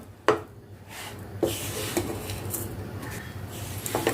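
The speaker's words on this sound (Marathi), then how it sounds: "आपल्याला हे मिश्रण आता असं परतवून घ्यायचं आहे" Sesame, peanut and jaggery mixture being stirred and turned in a pan over low heat, with a few sharp knocks of the utensil on the pan and a continuous scraping, sizzling texture between them, close up.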